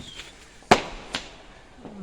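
Fireworks going off on Bonfire Night, one sharp close bang followed by a softer second crack and a faint distant pop, each with a short echoing tail.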